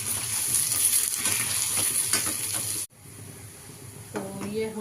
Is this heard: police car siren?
no